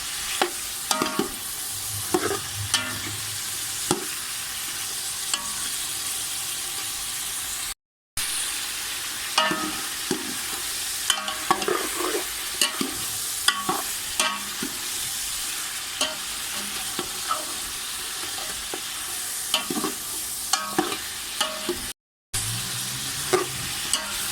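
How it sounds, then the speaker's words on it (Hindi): Chicken for a chicken qorma karahi browns in a karahi, a steady broadband sizzle and frying hiss broken by repeated scraping stirs of a spoon against the pan, close and alone with no voices. "इसको हम अच्छे से ऐसे करके ब्राउन कर लेंगे"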